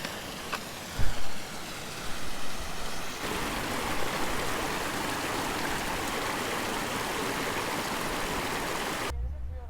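A mountain spring stream on a hiking trail in Swat Valley, Pakistan, rushes over stones in a steady broadband wash. The flow is close and continuous and runs right to the end, with a brief bump partway through.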